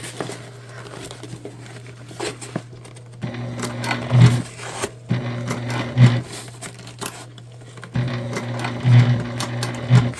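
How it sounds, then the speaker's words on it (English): Sewing machine stitching a shoulder bag through bulky layers near metal hardware, running in three steady bursts of rapid mechanical whirring with short pauses between, close and clear over light handling noise. "making sure we don't sew over any metal"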